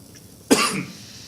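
A single sharp cough from a person at a neighbourhood assembly, close and abrupt, fading quickly into room quiet.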